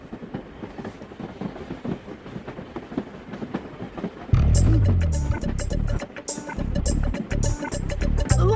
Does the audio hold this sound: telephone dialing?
no